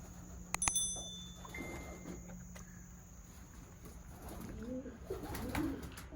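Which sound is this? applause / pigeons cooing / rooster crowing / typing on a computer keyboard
pigeons cooing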